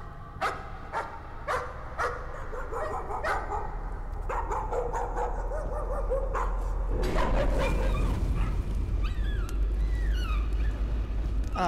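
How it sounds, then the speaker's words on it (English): A dog in the horror game Layers of Fear barks in sharp repeated yips and whimpers, rising in intensity over a rumbling, noisy background, with squealing cries near the end. "Don't burn the dog."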